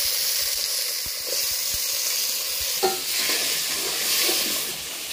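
Tomatoes added to a pan of fried green chillies and onions set off a loud, steady sizzle and hiss, with a sharp clatter of stirring near the middle and bubbling spurts afterward.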